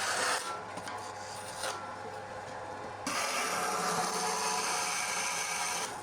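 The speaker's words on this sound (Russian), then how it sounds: "Ну, как видите, прям спокойно можно пилить там деревяшку" A STALEX band saw cuts through a large wooden block with a continuous, close rasping whine that grows fuller and louder partway through and then holds steady.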